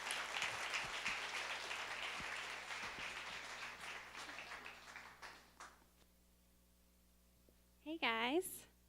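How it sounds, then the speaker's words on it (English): Congregation applause at a church's pastor appreciation service, a dense sustained clatter of many hands that fades out over about six seconds, followed by a short burst of voice. "let's give him a round of applause for his leadership."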